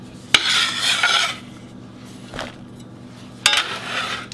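Chopped mushrooms and onions are scraped into a bowl in a home kitchen, giving a few sharp utensil clinks followed by close rasping scrapes against the dish, with quiet pauses between them.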